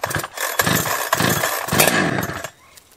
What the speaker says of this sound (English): now I get to run a chainsaw.